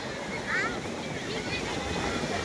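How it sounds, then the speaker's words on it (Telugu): Surf and onshore wind at Tupilipalem Beach in Andhra Pradesh fill the air with a steady broadband wash, waves hissing continuously while someone talks over it. "ఊపిలిపాలెం బీచ్ ఇది."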